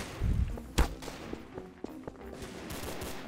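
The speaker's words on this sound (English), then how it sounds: "They're all shooting each other now." Garry's Mod DarkRP gunfire sounds as a few sharp shots, one loud close crack followed by fainter scattered pops against game background noise.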